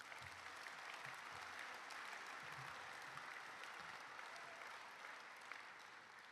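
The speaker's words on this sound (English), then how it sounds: "Can we give them a round of applause too?" A room of gala dinner guests applauds steadily and evenly for several seconds, a dense sustained wash of clapping at moderate distance with no voices over it.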